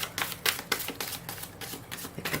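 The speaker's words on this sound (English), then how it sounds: "A few more shuffles." Tarot cards are shuffled close to the microphone in a quick, uneven series of crisp riffling snaps and soft papery slides, fairly quiet and with no talking.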